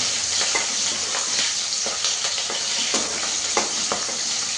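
Onions frying in oil in a pan for a potato gravy, a steady close sizzle with soft crackles running throughout, no voices.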